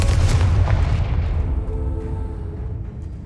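A Confringo spell explosion in the video game Hogwarts Legacy opens with a loud, deep boom that rumbles and slowly fades over a few seconds.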